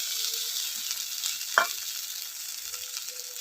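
Masala spice paste with slit green chillies fries in a pan for a mixed vegetable curry, a steady close sizzle with one brief clink of a spoon partway through.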